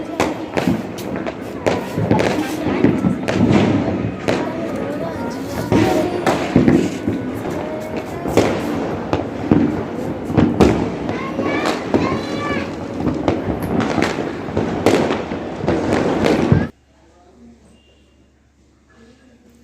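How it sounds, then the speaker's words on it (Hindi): Diwali firecrackers burst in rapid, irregular succession, loud sharp bangs and crackles packed close together with people's voices mixed in, stopping abruptly near the end into quiet. "हम लोग पटाखे छुड़ा रहे हैं अभी।"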